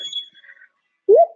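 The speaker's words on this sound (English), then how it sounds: "I'm just gonna go until it beeps." A workout interval timer gives a short electronic beep, with a faint tone before it and then silence.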